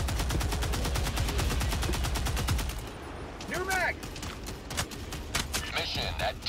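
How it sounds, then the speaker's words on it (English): In the video game Helldivers 2, rapid bursts of automatic gunfire rattle loudly for several seconds, then give way to scattered shots, bangs, explosions and whooshing game sound effects. "It's just explosions everywhere."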